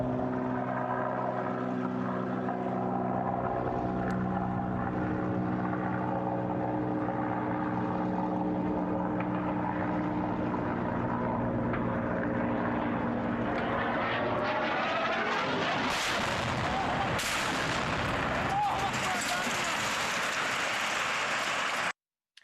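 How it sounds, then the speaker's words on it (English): A loud, sustained aircraft roar with strong engine tones swells and grows harsher toward the end, then cuts off abruptly, played as an air raid recording of air forces dropping missiles. "close your eyes and imagine missiles are being dropped by air forces. And this is what you will hear again"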